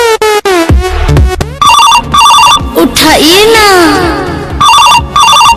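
A phone rings loudly with repeated electronic ringtone bursts, while people talk over it in between rings and a melodic tone sweeps in the middle.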